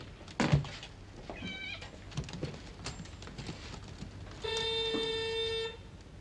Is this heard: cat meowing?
yes